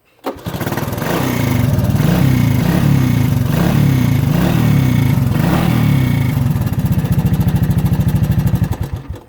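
A 1985 Honda ATC 200S three-wheeler cranks and fires, then runs with a loud, steady, close-up chugging idle and a few throttle blips before the engine cuts off near the end.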